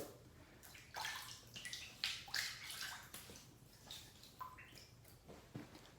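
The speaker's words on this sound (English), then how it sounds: "Wet the face." Faint running and splashing water while the face is wet before a shave, with soft irregular splashes and sloshes close by and no talk.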